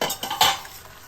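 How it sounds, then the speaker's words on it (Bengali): A mixed vegetable curry being stirred in a covered pot after simmering: a brief run of spoon scrapes and metallic clinks against the pot, close up, over a soft sizzle with no talking. "5 মিনিট পর ঢাকা খুলে আরেকবার নেড়ে দিচ্ছি"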